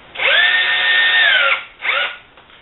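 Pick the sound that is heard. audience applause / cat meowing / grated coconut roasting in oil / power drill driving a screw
power drill driving a screw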